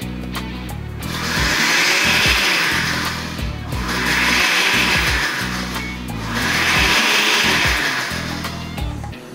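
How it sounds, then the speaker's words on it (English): Blender pulsing cooked shallots, wine and egg yolks on low, three long whirring bursts of motor and churning liquid with short pauses between, close and loud, no talking. "we're going to make it simply in a blender"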